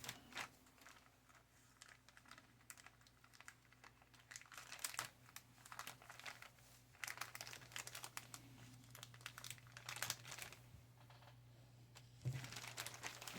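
Plastic bag from a Tamiya 1/35 A34 Comet British cruiser tank model kit crinkling close up as it is handled and opened, with bursts of crisp rustling spread across the clip over a low steady hum.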